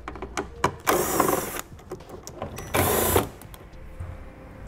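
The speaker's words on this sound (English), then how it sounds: "Now we'll remove the 7mm screws that are behind these covers." 7mm screws are backed out from behind the trim covers of a 2018 Buick. Two bursts of whirring from a power driver stand out against scattered small clicks and handling noise.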